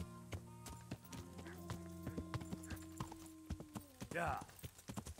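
Hooves clip-clop rhythmically as a horse is ridden in Kingdom Come: Deliverance, the steady near beats joined by a brief whinny toward the end, with a sustained tonal hum running underneath.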